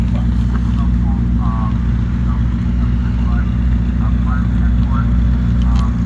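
A Lamborghini Revuelto and a Ferrari SF90 idle together at a holiday toy drive, a steady loud engine rumble running unbroken throughout while people talk and call out over it.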